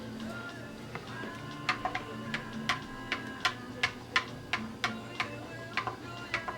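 A spoon clinks repeatedly against the inside of a glass while stirring pineapple lemonade with Sprite and water, a quick irregular run of bright ticks over a low steady hum.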